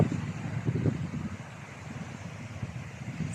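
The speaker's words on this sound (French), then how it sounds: "En vrai, en bord de plage, il y a un peu plus de vent." Wind at the seaside, a steady low buffeting roar across the microphone with soft gusty swells, moderately faint, with no one speaking.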